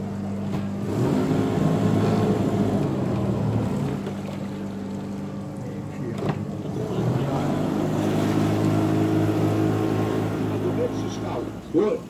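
A tour boat motors along the tree nurseries of Boskoop with a low, steady engine drone throughout, and people talk over the hum.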